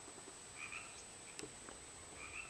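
Frogs croak at night, a soft repeated chorus of calls set against a steady high insect whine and a low outdoor hush, with no voices.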